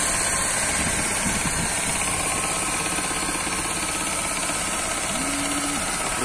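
A 2014 Ford Fiesta 1.0 with manual gearbox idles steadily up close, a continuous engine drone carrying a faint, slight clicking or ticking, with no talking.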